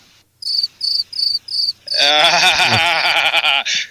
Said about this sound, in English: The crickets are coming back.